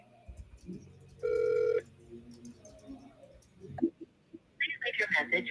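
An outgoing phone call rings back once in a short, clear tone burst, surrounded by quieter muffled talk and line noise.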